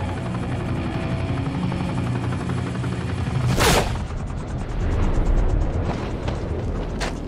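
Helicopter in Call of Duty: Modern Warfare 3, a steady loud rotor drone with game gunfire and explosive bursts around it, a sharp blast near the middle and another near the end.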